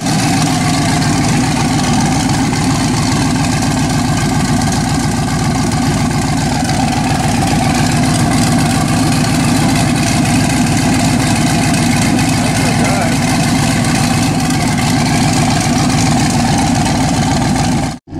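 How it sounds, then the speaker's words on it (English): A twin-turbo 5.2 Magnum truck engine idles steadily in neutral, a loud, close, continuous low rumble holding level for about eighteen seconds before cutting off abruptly at the end. "So right now we're gonna put it in neutral, start it up, check it in neutral"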